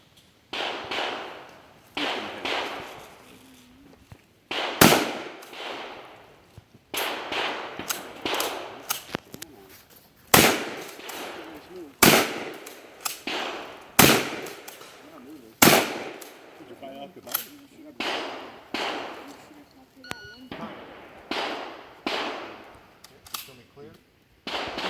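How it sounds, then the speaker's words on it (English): Rifle, shotgun and pistol fire at a 3-gun shooting stage on a gun club range, loud sharp reports in irregular series spread over the course, some quick pairs, close to the listener with faint background voices. "Stage 2 was rifle, shotgun, and pistol. Rifle shot the targets in back, shotgun shot the clays up front"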